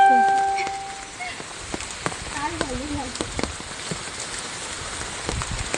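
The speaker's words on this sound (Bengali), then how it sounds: "এই বৃষ্টি ভিজে ভিজে" Rain falls outdoors during fishing, a soft continuous patter with scattered sharper drops, while people talk nearby and a brief tonal sound drifts over the start.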